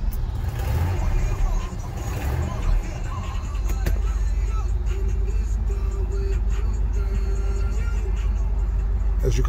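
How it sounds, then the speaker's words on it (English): The engine of a 1972 Lincoln Continental Mark IV cranks and catches, then settles into a loud, steady low idle rumble heard close up. "And let's do a startup."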